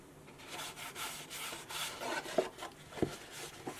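Hands rubbing inside a paper football helmet model, a soft, close, continuous papery scuffing with a couple of faint taps.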